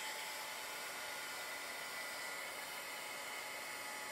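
A hair dryer blows steadily and close to dry freshly applied chalk paste on a chalk art craft piece, a continuous loud whooshing hum with no talking.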